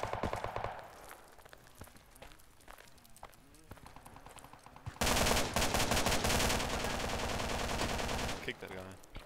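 Rapid automatic gunfire in Project Reality v0.981 on the Kozelsk map, scattered shots and bursts at first, then a loud, dense sustained stream of fire in the second half, with no talk over it.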